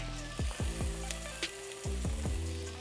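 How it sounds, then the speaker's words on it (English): Onion sautéing in a pan sizzles steadily and close by, with a few sharp metallic clinks and scrapes of a utensil against the pan scattered through it, no voices. "I have some onion sauteing right here."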